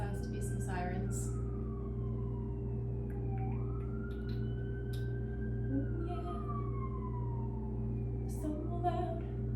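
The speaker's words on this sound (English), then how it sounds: "Has to be some sirens." Emergency vehicle sirens wail outside, a rising and falling tone sweeping through the clip at moderate distance beneath a steady low hum, with a brief spoken exclamation near the start.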